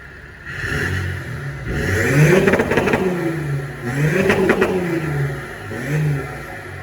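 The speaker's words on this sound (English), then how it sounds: "V6 3-litre TDI. Let's get a little rev." An Audi A5 3.0 TDI V6 diesel with a straight-pipe exhaust revved up close, three rising and falling blips of loud raspy engine roar, with no talking.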